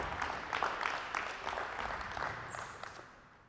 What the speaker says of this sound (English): Round of applause, thank you, girls